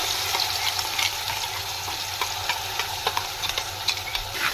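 Spinach paste sautéing in a pan with mustard seeds, asafoetida and turmeric: a dense continuous sizzle with repeated scraping stir strokes, loud and close, with no talking.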